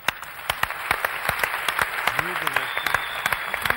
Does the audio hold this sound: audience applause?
yes